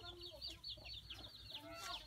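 Chickens cluck repeatedly in short, overlapping calls, fairly close and moderately loud, with a few sharper squawks among them.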